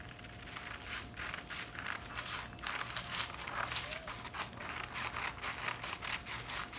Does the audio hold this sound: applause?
no